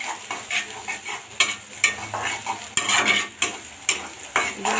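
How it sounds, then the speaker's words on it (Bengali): Chopped onions frying in soybean oil for kacchi biryani, a soft steady sizzle broken by regular scraping strokes of a spatula against the pan, close up with no talking. "পেঁয়াজটা এখন লাল লাল করে ভেজে নিব বেরেস্তার মতো।"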